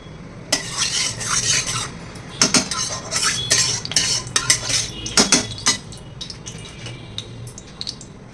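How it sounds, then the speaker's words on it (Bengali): A light metal spatula scrapes and clanks against a cooking pan in bursts of stirring strokes separated by short pauses, close and loud, with no voices. "এই খুন্তিটা দিয়ে নাড়াচাড়া করতে খুব সুবিধা ভীষণ হালকা"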